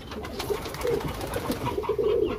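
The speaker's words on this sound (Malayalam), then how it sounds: "ഇതാണ് പറഞ്ഞത് ഷർഫിന്റെ പ്രാവ്." A pigeon coos close by on a farm, with soft, low, rolling calls repeated several times over a steady outdoor background.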